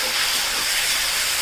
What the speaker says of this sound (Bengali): মশলাটা এখন ভাজা হবে